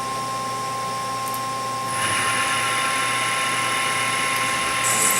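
A tool grinds and whirs against a Bultaco brake bracket to take off a burr, a steady mechanical buzz with a faint whine that gets louder after a couple of seconds and keeps running.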